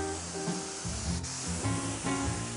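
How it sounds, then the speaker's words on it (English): A spray gun hisses continuously at close range, spraying finish on sanded furniture, its airy spray steady with slight shifts in pitch as it moves along its length. "Now we'll spray this. It's all been sanded."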